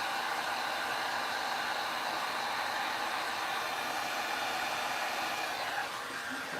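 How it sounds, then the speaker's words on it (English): A heat tool blows hot air onto a print to soften it for cutting, a steady, loud, even rushing hiss that holds unchanged throughout, with no talking. "I want to heat this for just a second to soften it so it cuts easy."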